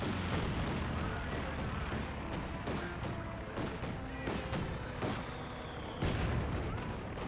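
Grenadier rifle fire crackles through a Company of Heroes 2 battle, with repeated sharp gunshots and heavier booms over a dense wall of game combat noise.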